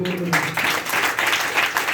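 A church congregation claps hands together during a sermon in rhythmic bursts of applause. The clapping is fairly close and loud, with a preacher's voice just before and underneath it.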